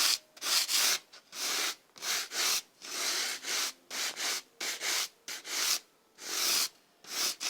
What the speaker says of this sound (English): the sanding sponge.